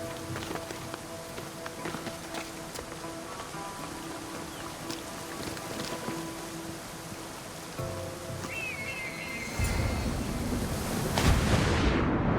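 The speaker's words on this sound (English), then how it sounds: "This is the waterfall." Waterfall in Assassin's Creed Odyssey, a steady broadband rush of falling water under faint game ambience and footsteps, swelling louder and closer toward the end.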